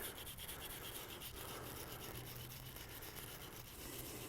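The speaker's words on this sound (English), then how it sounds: "Use a brass, nylon brush, something that's not going to mar up the aluminum." A brass or nylon brush scrubs aluminum engine pistons in steady, close back-and-forth strokes, a soft continuous rubbing with a regular rhythm and no voices.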